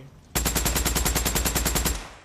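Rapid automatic gunfire in Days Gone hammers out a loud, steady stream of about fifteen evenly spaced shots, then stops abruptly and leaves a brief fading tail.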